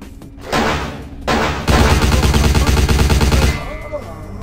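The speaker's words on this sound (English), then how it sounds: "I just had a machine gun." Machine gun fire in the Vampire Bloodlines video game, loud sustained bursts of rapid automatic shots with short gaps between them, then a long unbroken burst before it cuts off.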